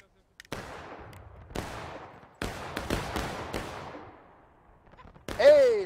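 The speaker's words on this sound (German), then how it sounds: "Seht ihr so zwar die einzelnen Schüsse, guckt ruhig dahin." Musket volleys ring out in a War of Rights multiplayer battle: several sharp, loud shots and cracks in irregular bursts with long echoing decay, closing with a brief rising whistle-like tone.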